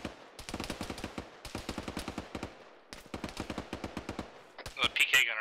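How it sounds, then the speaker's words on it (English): Bursts of PK machine gun fire in a military shooter game ring out in rapid, rhythmic volleys, several long strings of shots separated by brief pauses, loud and close, ending with a sharper crackle. "The PK gunner out there to the north."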